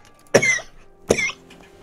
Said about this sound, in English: You need to get your cough sorted.